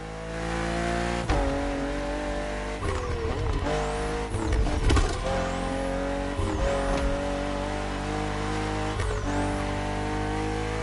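A BMW M4 CSL in The Crew Motorfest revs loudly and steadily, its engine note rising through repeated gear shifts, with brief tire squeals breaking in alongside.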